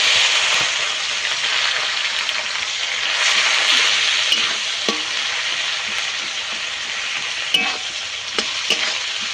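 Chopped onion and cumin frying in hot oil give a continuous close sizzle with crackles and occasional stirring scrapes, steady and loud throughout, with no talking.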